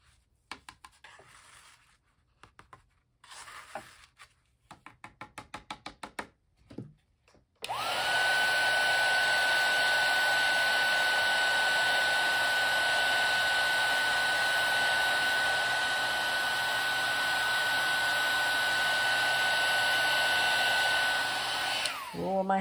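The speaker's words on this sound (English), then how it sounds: "I'm going to pick up some more powder and heat it again." A heat gun blows a loud, steady whoosh for about fifteen seconds, melting embossing powder on a faux cloisonné recycled art piece, after some short rustling and tapping sounds of craft handling.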